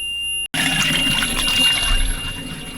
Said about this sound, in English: Doesn't mind the alarm too much.